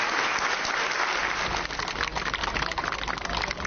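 A crowd gives sustained applause at a funeral ceremony for a beloved stage actress, a dense continuous patter of many hands, steady and close, with no talk.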